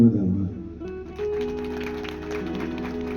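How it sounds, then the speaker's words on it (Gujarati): Applause for a guest artist at a Gujarati stage program, opening with a burst of clapping and settling into steady, moderate clapping from an audience under a held musical drone. "એટલે કહેવાનો ભાવ થઈ જાય પહેલા એકવાર જોરદાર તાળીઓ સાહેબને વધારવા"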